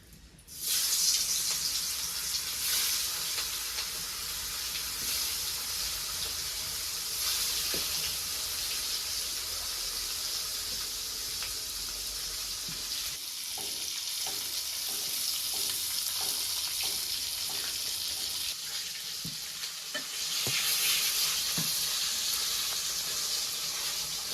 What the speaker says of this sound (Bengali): এবার সে মাছ মেখে নিছি, কড়াইতে দিয়ে দেবো, কড়াই তাপে গেছে গা